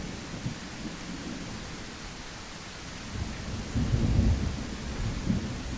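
A rain and thunderstorm in The Isle Evrima game: steady rain hiss with low rolling thunder swelling near the end, continuous and moderately loud.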